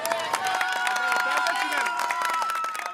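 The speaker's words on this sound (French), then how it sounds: "On applaudit très très fort pour le grand Benkadi de Sebenikoro." Crowd at a live stage event cheering and clapping for a performer, dense and sustained throughout, with whistles and shouts mixed into the steady roar of applause.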